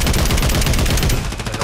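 Rapid Call of Duty gunfire rattles loud and close in a dense burst of repeated shots throughout, easing slightly near the end.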